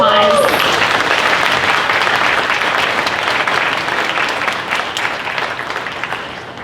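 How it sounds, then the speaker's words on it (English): A crowd at a county fair queen and princess coronation in Lebanon breaks into sustained, loud applause that slowly fades over several seconds, with a brief voice at the very start. "let's go ahead and give them all one round of applause."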